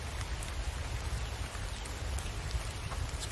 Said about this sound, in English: Especially now that it's raining.